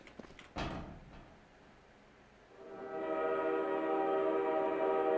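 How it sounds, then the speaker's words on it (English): A train in a Team Fortress 2 custom map starts with a clank and a few knocks, then a rising mechanical rumble that settles into a steady, loud running drone with a sustained whistle-like tone, and no talk. "Well, the train worked, but the gates don't open."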